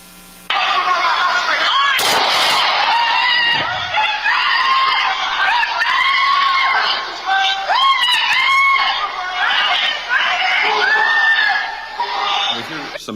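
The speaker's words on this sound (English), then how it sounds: "We hear some yelling there." Yelling in recorded footage played during a criminal trial. Loud, strained shouting voices overlap almost continuously, with a sharp burst near the start.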